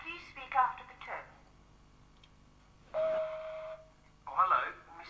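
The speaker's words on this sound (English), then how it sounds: "If you'd like to leave a message, please speak after the tone." An answering machine gives a single steady beep tone lasting about a second, right after a recorded voice greeting and followed by more speaking.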